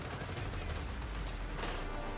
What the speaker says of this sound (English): The sound of heavy gunfire comes over the transmission once again.